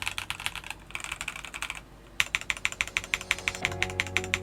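Rapid clacky keystrokes on a mechanical keyboard with clone keycaps, crisp and close, with a brief pause before a steady, even burst of typing resumes.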